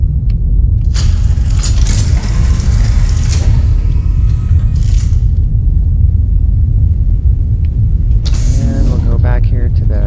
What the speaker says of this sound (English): I'm going to just keep my engines on while I'm sleeping,